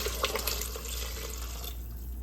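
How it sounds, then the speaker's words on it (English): Tap water pours steadily into an Instant Pot pressure cooker for turkey chili, a close continuous splashing stream that thins and fades toward the end. "Now we're gonna add about 8 cups of water"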